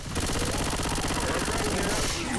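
Rapid, continuous automatic gunfire from a video game as players fight a tank, dense and loud throughout with no pauses.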